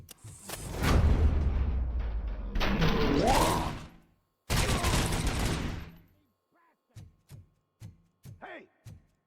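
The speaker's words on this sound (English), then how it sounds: "Am I hearing gunshots?" Bursts of gunfire in the RoboCop: Rogue City video game, loud sustained volleys with whooshing mechanical sounds, then a pause and a string of separate sharp single shots.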